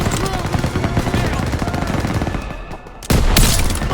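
Dense, rapid machine gun fire from the Call of Duty WWII video game, set in Operation Cobra, rattles continuously with heavy bursts and a loud blast near the end, with a voice talking over it.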